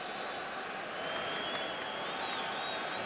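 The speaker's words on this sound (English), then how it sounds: "The crowd's letting them know about it right now" A baseball crowd at a Red Sox vs Rays playoff game roars and applauds in a dense, steady wash of cheering that swells slightly midway, distant and even, with no clear voices on top.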